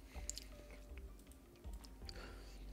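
Crunchy chewing of carrots with dip, close to the mic, with irregular bites and mouth noises over a low background hum.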